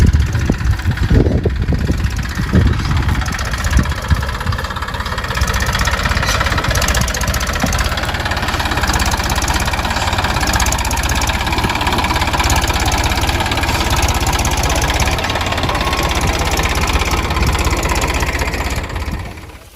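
A tractor engine runs steadily throughout, a loud, close, continuous mechanical drone with a low knocking throb and no talking.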